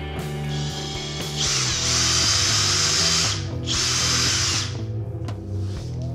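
Power drill pre-drilling screw holes with a 2.5 mm bit while assembling a Winmau Xtreme 2 dartboard stand: two loud, sustained bursts of whining drilling separated by a short pause, close up.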